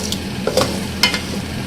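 Mutton keema with garlic-ginger paste frying in a pan, a close steady sizzle with a few light stirring scrapes and clicks on top.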